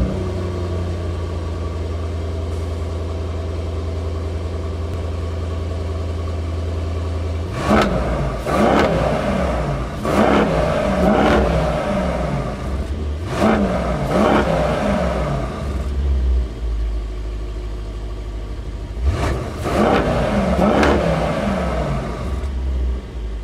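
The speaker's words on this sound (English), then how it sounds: "let me take you around back so you can take a listen to what this 600 horsepower wagon" A 600-horsepower Mercedes-AMG E63S wagon at idle, then blipped hard several times, each sharp rev rising and falling back, with a final burst near the end, heard close from behind the car.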